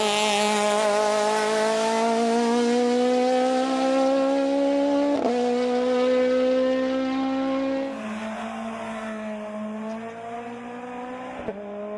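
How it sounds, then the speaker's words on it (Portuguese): A Citroën Saxo race car at the Rampa da Falperra hill climb, its engine screaming loud and close through a curve, the pitch climbing, dropping with gear shifts, then easing off as the car moves away. "O Saxo a passar a curva do restaurante."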